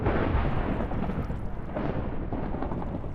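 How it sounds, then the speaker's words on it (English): Thunder from a lightning strike in beta Minecraft, a heavy, continuous low rumble that rolls loudly for a few seconds with no talking over it. "Every time I say something negative, it's stupid lightning, and it sounds like it's getting worse out here."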